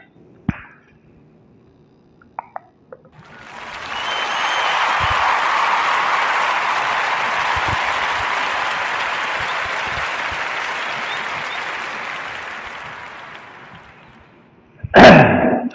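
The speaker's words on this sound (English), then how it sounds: "give a warm narrative podcast round of applause for Tamika Bond and the Bond" Applause from a podcast audience for guests Tamika Bond and the Bond Containers: a sustained wash of clapping swells in, holds steady for about ten seconds, then fades, with a few isolated knocks before it and a sharp thump at the end.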